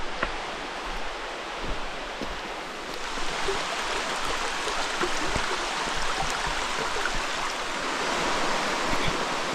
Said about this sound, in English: So I believe this is Deep Creek here